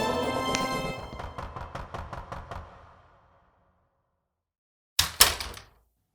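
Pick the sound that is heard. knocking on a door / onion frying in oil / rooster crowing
knocking on a door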